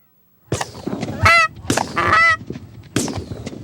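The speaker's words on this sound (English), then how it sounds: "Michigan's goose population has exploded in recent years" Geese on a Michigan hunting ground, a few loud, close honks in separate bursts with brief silent gaps, the nasal calls rising and wavering.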